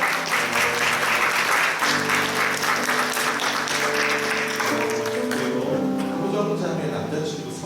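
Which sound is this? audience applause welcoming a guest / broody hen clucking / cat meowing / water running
audience applause welcoming a guest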